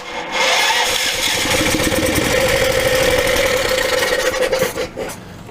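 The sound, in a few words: small engine cranking and starting after compression release adjustment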